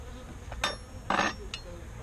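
Honey bees inside a beehive where small hive beetles run over the comb, giving a faint low hum with two or three brief buzzing bursts of bees passing close by.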